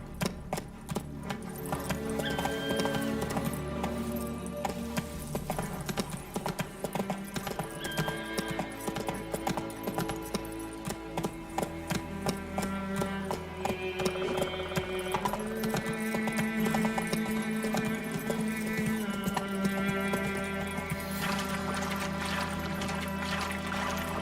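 Roach, the horse in The Witcher 3, gallops with a steady, rapid clip-clop of hooves over continuous game music. No one speaks.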